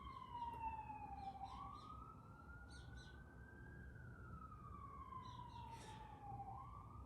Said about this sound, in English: we've got some sirens coming up the mountain